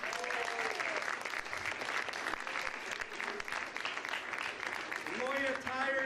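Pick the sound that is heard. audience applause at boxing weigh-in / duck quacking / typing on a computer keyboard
audience applause at boxing weigh-in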